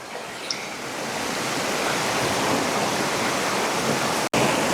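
A waterfall in the Columbia River Gorge roars as a dense, steady wash of falling water, loud and close and alone, with a short sharp break near the end.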